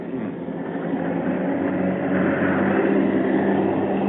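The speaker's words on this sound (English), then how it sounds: "What are Russian jets doing here?" Russian jet planes pass overhead in icy conditions, giving a steady, loud, broadband roar that holds for the whole stretch and swells slightly toward the end.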